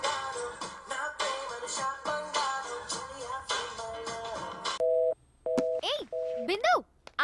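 Voices give way to a phone line's steady electronic beeps, short repeated tones broken by brief gaps, with a rising chirp in between.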